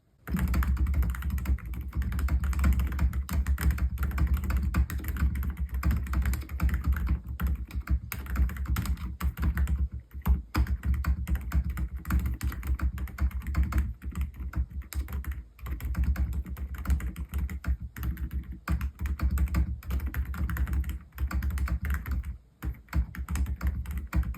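Continuous typing on a Gamakay TK75 V2 keyboard fitted with silent switches, a steady dense stream of soft, muted keystrokes with no talking, close and even throughout.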